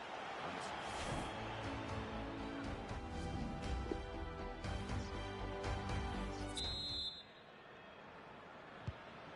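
A referee's whistle sounds briefly near the end, a short shrill blast over the steady roar of a soccer stadium crowd before the noise drops off.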